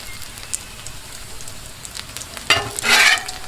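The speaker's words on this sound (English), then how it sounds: "taking some of this bacon grease and we're just throwing them right on top of these hash browns" Bacon grease sizzles on hash browns on a Blackstone griddle with a steady, close crackling hiss that swells into a louder burst of sizzle near the end.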